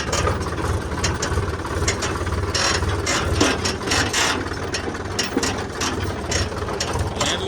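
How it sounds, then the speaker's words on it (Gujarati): A Mahindra Yuvo tractor engine runs steadily up close as it heads out to level farmland with a plough attached, giving a continuous low rumble with rattling, clanking mechanical chatter over the top and no talk. "મિત્રો હું ટ્રેક્ટર લઈને નીકળ્યો છું જમીન લેવલ કરવા માટે"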